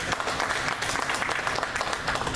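Applause from a homecoming audience, a dense steady patter of many hands clapping, loud and close, with no voices over it.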